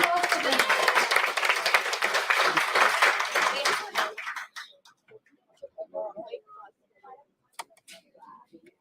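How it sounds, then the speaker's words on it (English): An audience claps and cheers loudly for a student dance performance at a college department event, the applause lasting several seconds before fading to scattered claps as a voice speaks. "Please give a huge round of applause for them."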